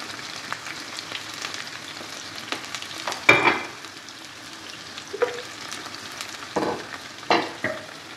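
Onion and garlic sizzling in hot oil for a mung dal dish: a continuous close crackle with several sharp spatter bursts and stirring clatters, no voices.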